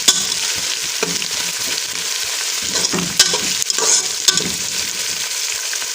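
Onions fry with cloves and a bay leaf in a pot for mutton arvi gosht, a loud, continuous sizzle broken by repeated scraping stirs and clinks of the spoon, close up with no voices.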